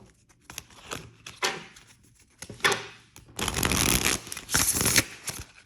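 Tarot cards shuffled by hand in bursts: a few short riffles and taps early on, then a longer, louder run of dense fluttering card noise near the end, close up and with no voices.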